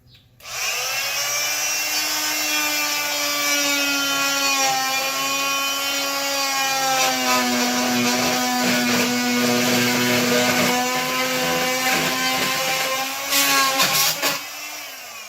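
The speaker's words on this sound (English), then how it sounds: "These oscillating tools are a lifesaver." Oscillating multi-tool cutting through wood on a crate coffee table under repair, a steady close buzzing whine that runs nearly unbroken for the whole stretch, with a brief rougher burst near the end as it cuts through.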